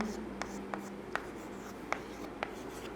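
Pen strokes on paper during a chemistry lesson, a steady scratchy scribble with sharp taps as letters are finished, close and clear over a low room hum, no talk.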